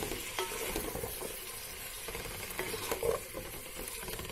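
Vegetables with ginger garlic paste sizzle in a frying pan for veg biryani while a spoon stirs and scrapes through them, with soft, continuous frying hiss and occasional scraping taps.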